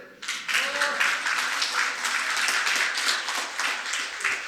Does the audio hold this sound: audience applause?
yes